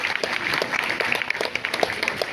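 Audience applause for a Yakshagana performance at a community gathering, a dense, steady round of many hands clapping close by, lively and sustained throughout.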